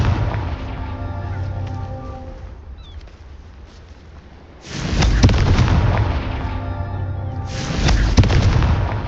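Fiery spell blasts from the Hogwarts Legacy video game, a Confringo fire curse: two loud, booming explosive bursts at about five and seven and a half seconds, each with a roaring crackling tail, over a rumbling game score.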